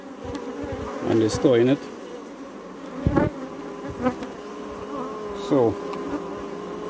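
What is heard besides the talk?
honeybees buzzing at a hive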